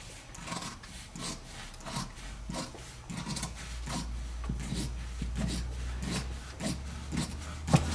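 Edges of a cover reinforcement are trimmed with a steady run of close, rhythmic rasping strokes, repeating about twice a second and growing slightly louder toward the end. No voices.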